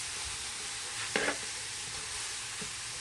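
Vegetables half-cook in a pan with only a little cooking oil, giving a steady, close sizzle throughout with one brief stir.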